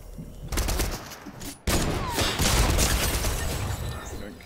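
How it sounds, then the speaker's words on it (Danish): Rapid bursts of gunfire in the Fortnite video game, with loud dense shots filling most of the clip after a brief quiet start and a short break partway through. "Jeg blev skudt af en eller anden."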